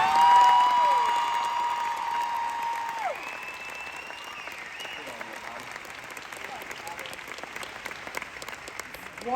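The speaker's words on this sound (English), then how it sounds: "Round of applause for my mum," Audience applause at the VMX 2024 event with the Irwins, loudest at the start then tapering into a steadier, thinner clapping, while voices and other tones ride over it.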